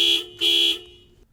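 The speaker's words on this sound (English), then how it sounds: "On top of the left control lever is the horn button." Horn on a John Deere 470G excavator blares in two bursts, a short one then a longer one, loud and close, trailing off into quiet.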